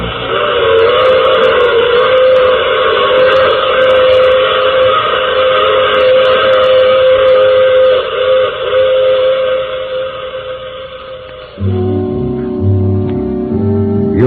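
A train and its whistle in an old-time radio drama: a loud, sustained multi-tone whistle blows over rumbling rail noise, then shifts to a lower steady tone as the train runs on, with no voices.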